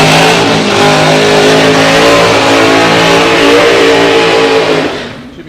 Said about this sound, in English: That is a half-track burnout for Freddie Fagerstrom.